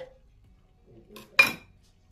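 A fork pokes cooked potatoes in the pot of a Cookeo cooker alongside cabbage, giving a few soft scrapes and then one sharp metallic clink against the pot, near and brief in an otherwise quiet kitchen.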